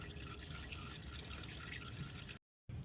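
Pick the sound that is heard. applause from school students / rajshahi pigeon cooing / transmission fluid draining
transmission fluid draining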